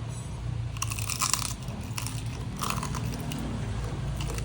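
Crunchy home-cooked fried food is bitten and chewed close up, with several crisp crackling crunches in quick bursts over a steady background hum.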